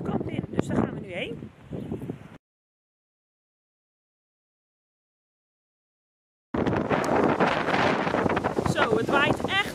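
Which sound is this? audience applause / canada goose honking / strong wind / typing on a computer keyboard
strong wind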